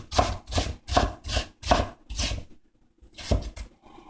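Onions are chopped with a knife on a cutting board, about seven firm rhythmic close chops in quick succession, a short pause, then two more.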